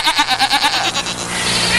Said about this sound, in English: I'm going to play my little Billy Goat jingle for you